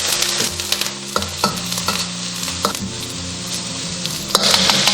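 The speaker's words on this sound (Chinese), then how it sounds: "锅里少许底油，下入葱姜蒜炒香，炒出香味以后，下入海鲜干货，然后沿锅边喷一圈料酒" Dried seafood with scallion, ginger and garlic stir-fried in a wok with a splash of cooking wine, a steady loud sizzle broken by sharp clacks and scrapes of the spatula against the pan.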